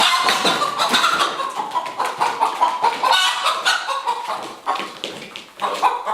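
Chickens cluck in quick, uneven bursts, with a rooster among them, loud and close, no talking.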